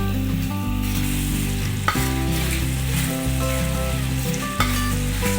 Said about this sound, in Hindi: मसाला बिल्कुल भुना जा चुका है।